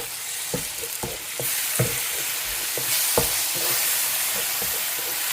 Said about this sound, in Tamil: இதை நல்லா கலக்கிக்கிறேன்